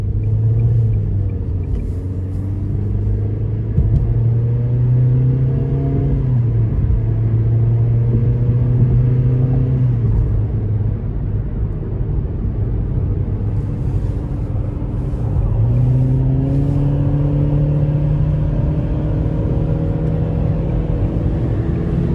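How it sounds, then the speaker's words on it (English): A 2024 Nissan Versa SR in sport mode pulls hard onto an interstate, its engine droning and rising in pitch through several gear steps, loud and close from inside the cabin with steady road rumble. "we're gonna give it a little pull in sport mode, getting on the interstate here"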